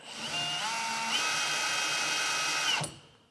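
A cordless drill fitted with a pilot bit bores into a metal truck bed at a marked spot. Its high whine runs steadily for about three seconds under pressure, shifts pitch as the bit bites, then stops abruptly.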